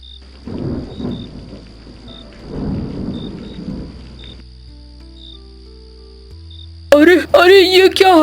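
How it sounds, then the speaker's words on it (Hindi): A cartoon storm scene with a continuous hiss of rain, low rumbling swells of thunder and a steady high insect-like chirp, ending with a loud animated voice speaking over it. "अचानक से बारिश"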